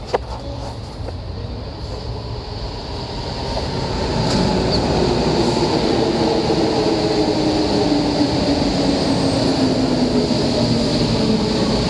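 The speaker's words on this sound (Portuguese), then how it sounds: "Da linha 5 do metrô." A Santiago Metro Line 5 train at Mirador station, a steady broad rumble of wheels and motors that swells around four seconds and then holds loud and continuous, with a faint squeal riding over it and no talk.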